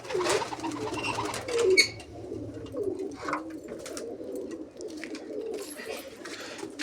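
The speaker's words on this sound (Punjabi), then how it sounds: "ਦੂਜੀ ਸਾਈਡ ਆ ਵੱਡੇ ਕਬੂਤਰ ਜਿਹੜੇ" Several pigeons coo continuously nearby, soft low throaty calls overlapping in a steady murmur, with a few brighter chirps.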